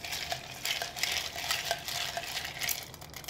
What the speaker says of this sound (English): This is a stirred cocktail.